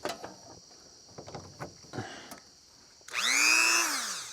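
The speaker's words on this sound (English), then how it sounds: "plug in the Dremel" A Dremel rotary tool powered by a Cybertruck in a welding workshop whirs up loudly and suddenly near the end, with a high rising whine after a few seconds of quieter clicks and knocks.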